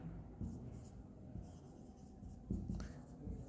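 Handwriting on paper in an accounting journal lesson, faint scratchy pen strokes in short irregular bursts, with soft rubbing in between.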